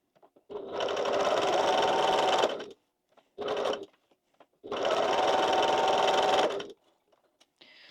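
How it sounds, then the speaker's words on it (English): A sewing machine stitches a fabric strap connector in two long steady runs with a short burst between, loud and close with no talk. "let me sew this in half because this is the right size for the strap connectors"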